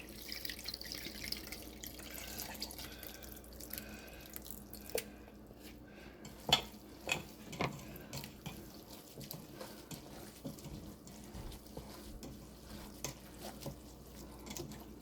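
Water trickles and splashes into leftover cooked rice in a container, with scattered drips and soft wet sloshing, fairly quiet and close.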